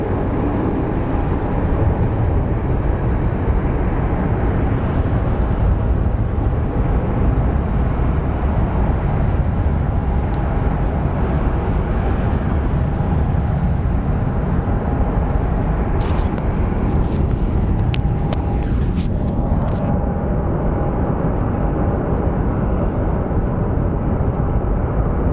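A little Airbus A319 pushes back at Phoenix Sky Harbor airport, a steady loud broadband engine and ground-equipment roar filling the whole span with a faint tonal whine, and a few brief clicks late on.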